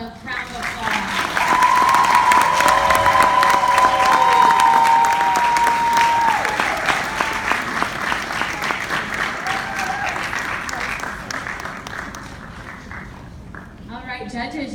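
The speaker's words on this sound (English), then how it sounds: "Let's give them all a round of applause." An audience at the Miss Brookville 2016 pageant breaks into loud, sustained applause for the contestants lining up, with dense clapping that swells and then slowly thins out while a voice comes over a sustained tone.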